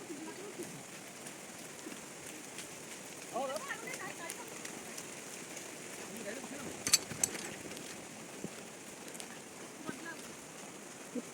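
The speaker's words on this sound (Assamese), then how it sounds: "বৰষুণো দি আছে" Rain falls on surfaces outdoors near a river, a faint, steady patter with scattered sharper drops, and quiet voices in the background.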